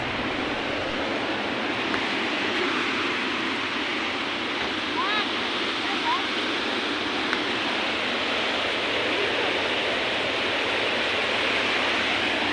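Steady broadband wash of surf rolling onto a beach at Binmaley, continuous and fairly loud, with faint brief voice-like sounds in the background.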